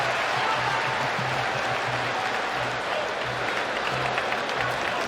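An arena crowd in Abu Dhabi applauds after the Hamzat Chimaev versus Kamaru Usman UFC fight, with broad, sustained clapping and a general crowd roar filling the space at an even level.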